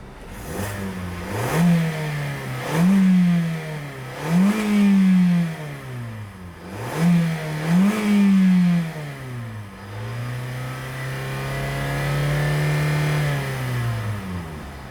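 A 2014 Hyundai Elantra engine with about 50K miles is revved repeatedly, rising and falling in several close, loud swells before settling into a steady idle hum, with no voices.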